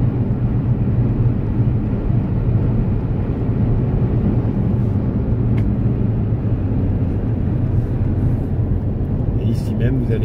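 A 2017 Toyota C-HR hybrid cruises along a road, giving a steady, continuous low drone of engine and tyre noise with no letup.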